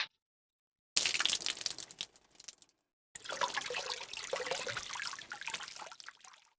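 Water runs from a tap as hands are washed at a sink, in two close bursts of steady splashing with a brief silent gap between them and no talking.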